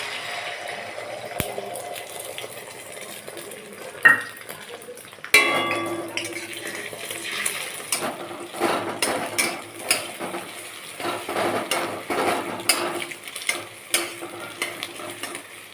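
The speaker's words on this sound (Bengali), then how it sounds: "ডিমটা ভালো করে ভেজে নেব।" Egg mixed with onion, chili and salt frying in oil in a pan, a soft continuous sizzle broken by sharp scraping and clinking of a utensil stirring, with a couple of louder knocks.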